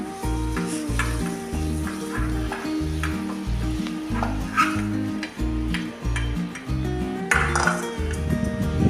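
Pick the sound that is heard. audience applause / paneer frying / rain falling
paneer frying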